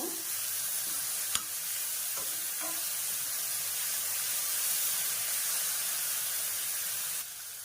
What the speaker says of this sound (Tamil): இது எல்லாத்தையும் சேர்த்து நல்லா வதக்கிக்கணும்